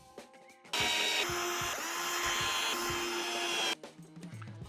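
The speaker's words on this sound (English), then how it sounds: "Now I'm just pre-drilling for the screws." A power drill pre-drills screw holes in wood during a router table build, giving one steady, loud, close whirring burst of about three seconds with a slight pitch shift midway, then stopping abruptly, with light handling clatter before and after.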